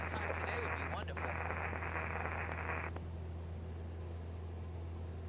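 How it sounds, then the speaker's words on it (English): A steady radio identifier tone plays in a Microsoft Flight Simulator 2020 cockpit during a flight around Mount Rainier toward Tacoma, holding for about three seconds over a constant engine drone and then cutting off. "Is that Morse code?"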